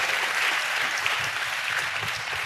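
A church congregation applauds steadily and densely throughout, with many hands clapping in a continuous wash of sound and no voices rising above it.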